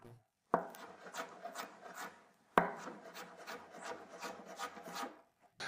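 A knife cuts carrot slices into thin strips on a board that doesn't slip, giving close, rasping strokes that run nearly continuously, broken by a sharp chop about halfway through, with no talking.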